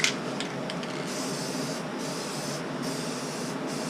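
A spray gun lays clear coat onto a carbon fiber intake in a series of hissing bursts, each lasting under a second and separated by short pauses, close by and fairly quiet, with no talking.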